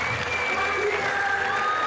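A large audience at an Imst climbing World Cup lead final claps steadily, a dense continuous roar of applause with some murmuring voices blended in.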